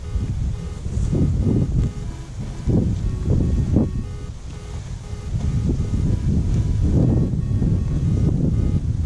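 Steady low wind rumbling and buffeting against the microphone throughout, with gusts swelling and fading in broad waves.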